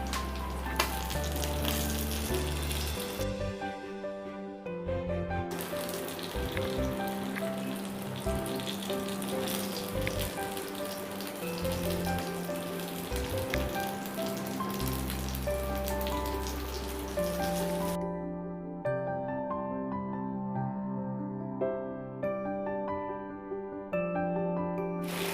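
Fish frying in coconut oil for Kerala-style Meen Pollichathu gives off a steady, dense sizzle and crackle that holds unbroken throughout, joined by a few brief stirring or handling noises and no talking.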